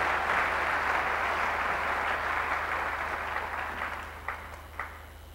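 A church congregation applauds, a dense, steady roar of clapping that slowly thins and fades over a few seconds, with a couple of sharper isolated claps near the end.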